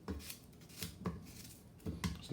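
A knife chops through unpeeled green plantain on a cutting board in a steady series of five or six soft, fairly close thuds with short pauses between, and no voices.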